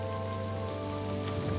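Steady rain falling in the video game Kingdom Come: Deliverance II, a continuous dense patter with a constant low hum beneath it, even and unbroken throughout, with no voices.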